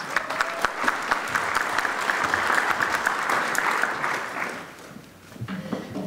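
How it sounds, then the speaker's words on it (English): Audience applause at the Cadillac High School orchestra concert, a full sustained crowd clapping that holds steady, then dips and briefly picks back up near the end. "Give her a round of applause."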